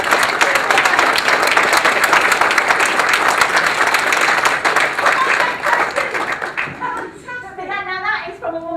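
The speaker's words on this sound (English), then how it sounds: "I think we should all give her a round of applause" Audience at the PCA Awards 2009 applauds Suzannah Nichol MBE: sustained, dense clapping from a full room that holds steady, then thins into scattered claps with a voice emerging near the end.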